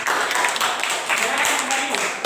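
Schoolchildren in a classroom clap their hands in applause, a dense, fairly loud patter of many small hands mixed with children's voices and chatter.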